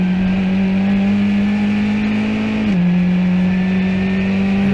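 A Formula 1600 race car engine drones steadily at close range, its pitch sagging partway through as the revs drop, then holding a lower, even hum with no voices over it.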